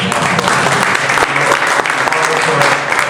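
Audience applause at a 2022 Hispanic-Serving Institution town hall at IU Northwest, a steady, dense wash of many hands clapping throughout, close and loud, with faint crowd murmur beneath.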